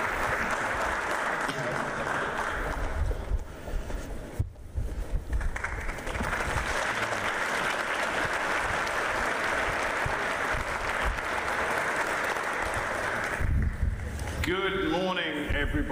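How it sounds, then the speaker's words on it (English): A packed hall audience at a NATO defence and deterrence event bursts into sustained, dense applause welcoming a panel, loud and continuous before a speaker begins talking near the end. "I really promised him a rousing applause from everyone here"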